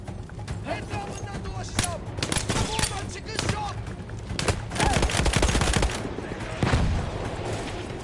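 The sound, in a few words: mortar fire in Battlefield 1 video game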